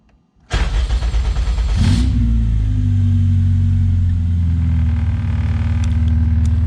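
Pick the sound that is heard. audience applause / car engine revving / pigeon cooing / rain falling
car engine revving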